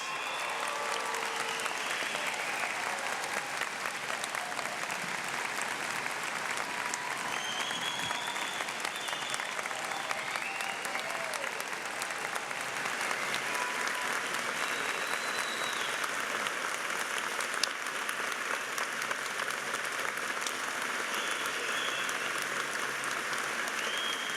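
Sustained, thunderous applause from a large audience honoring graduates of the College of Social and Applied Human Sciences at a University of Guelph convocation, steady and dense throughout with no talk.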